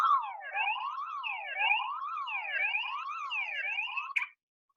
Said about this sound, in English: who set off my bad joke alarm?